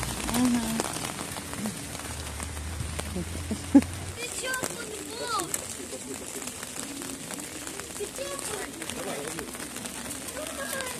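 Steady rain patters on a surface throughout, with a person talking over it and a brief knock partway through.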